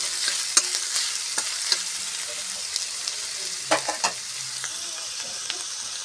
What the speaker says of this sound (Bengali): পেঁয়াজ কুচি দিয়ে দিয়েছি, ভালো করে নেড়ে এটাকে ভেজে নেব